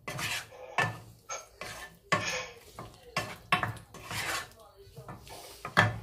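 Spoon stirring and scraping a turmeric, garlic and salt mixture in a cooking pot in a home kitchen: repeated rasping scrapes and clinks in an irregular rhythm, close and fairly loud, with no voices.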